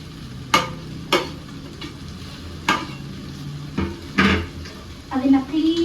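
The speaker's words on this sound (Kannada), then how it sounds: "ಅದನ್ನ ಕ್ಲೀನಾಗಿ ಮಿಕ್ಸ್ ಮಾಡ್ಕೊತೀನಿ" Mint and coriander being stirred into a pan of frying white chicken pulav base, with a spatula scraping and clinking against the pan in occasional sharp strokes over a steady low sizzle.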